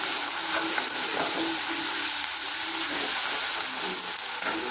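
Ginger garlic paste fries in hot oil for chilli chicken, giving a steady, close sizzle with a broad hiss that holds evenly throughout, with faint stirring scrapes underneath.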